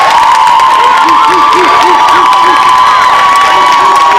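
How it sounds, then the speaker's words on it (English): A loud crowd cheers, whoops and applauds all at once, a dense continuous roar of clapping and shouting voices close by. "let's do a round of applause"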